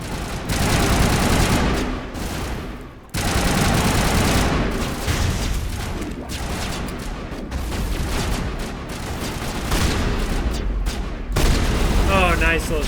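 Gunfire in the Mass Effect 1 video game: sustained bursts of loud automatic weapon fire and blasts nearly continuous throughout, with brief pauses, dense and close.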